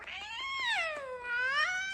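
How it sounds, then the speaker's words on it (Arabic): A cat gives one drawn-out meow, close and clear. The call rises, sinks into a low, whining middle and then lifts again before it trails off, with no talking over it. "عمل مياو"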